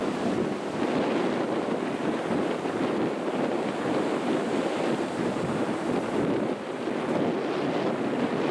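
Atlantic waves break along the long beach at Inch, County Kerry, in early January, giving a loud, steady surf roar mixed with wind rumble on the microphone, with no speech over it.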